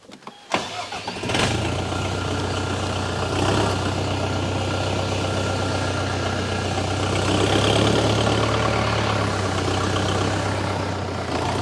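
A small diesel mini tractor with a front loader runs steadily and loudly throughout, with a low rumbling drone and a brief rev near the start.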